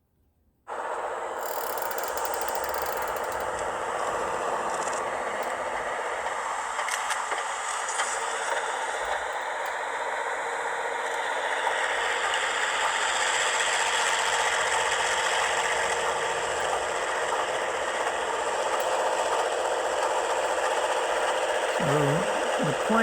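Rio Grande Rotary OY snowplow working snow on Cumbres Pass, a steady loud mechanical churning and whirring drone with a rattling, ratcheting edge that holds continuously and grows slightly louder throughout.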